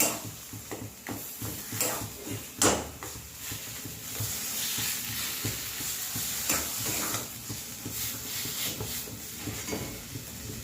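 Spiced potato filling for stuffed flatbread fries in a pan while a spatula stirs and scrapes it, giving a moderate sizzle broken by irregular scraping strokes and occasional clinks, heard up close without talk.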